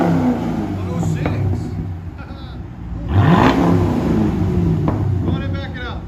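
A 2012 Chevy Camaro SS with a 6.2L V8 and Flowmaster Super 10 dual exhaust revs loudly nearby, its engine note rising and falling in a single strong rev, with people talking over it.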